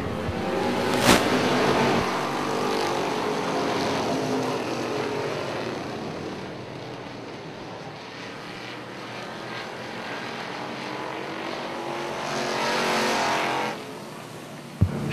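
Super stock race cars roar around a racetrack, engines swelling loudly as the pack passes close, easing off through the middle, then building again before a sharp bang near the end.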